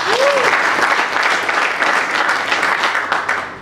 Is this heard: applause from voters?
yes